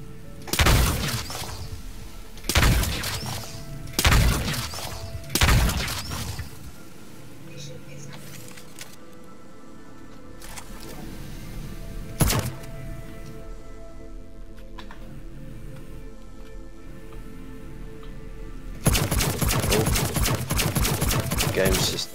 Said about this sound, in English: Just having a little practice shoot